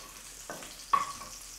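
Onions sauté in a pan for a shrimp and basil pesto dish, a brief quiet sizzle with a couple of soft stirring scrapes.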